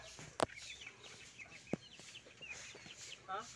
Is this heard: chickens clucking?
yes